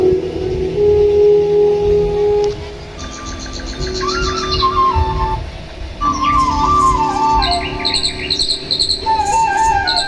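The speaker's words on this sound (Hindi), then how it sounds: "पक्षियों की आवाज सुनाई पड़ रही है।" Birds chirp and whistle in a dense forest, bright repeated calls from several birds overlapping with a steady low background hum and drone.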